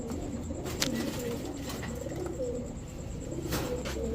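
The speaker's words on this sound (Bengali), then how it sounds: "কালো গড়রা একটা নরকবুতর" Black male Gorra pigeons cooing softly in a loft, low steady cooing murmurs repeating throughout with a few faint sharper chirps over a constant background hum.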